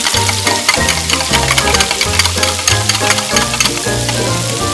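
Crab pieces fry in a pan with ginger, garlic and tomatoes for a crispy garlic-butter crab dish, producing a loud, dense sizzle over a strong pulsing musical backdrop with a regular beat, and no talking.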